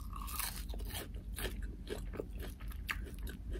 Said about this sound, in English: They're good, they're crunchy.